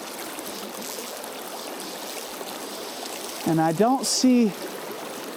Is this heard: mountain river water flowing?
yes